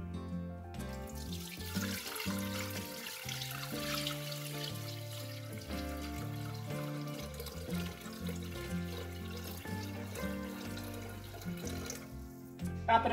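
About 800 grams of water poured into a Thermomix bowl, a steady running splash lasting several seconds under continuous background music, with no one talking.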